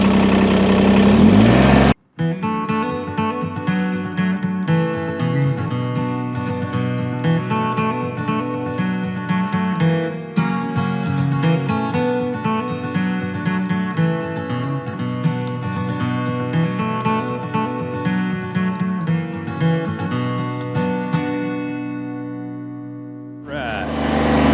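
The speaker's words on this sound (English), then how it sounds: "we're going to use the backhoe to dig the ditch" A Kubota BX compact tractor with its backhoe digs a gravel ditch, the diesel engine running steadily and loud throughout with hydraulic strain and revving shifts, a brief cut near the start and the engine winding down at the end.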